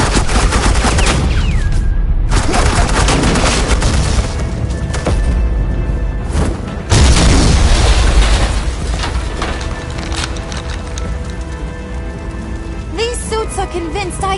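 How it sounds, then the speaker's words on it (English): Gunfire from Agent Quinn's suppressing fire in a Batman video game: dense bursts of shots and booms through most of the span, with a brief lull and game voices speaking alongside. "Suppressing fire."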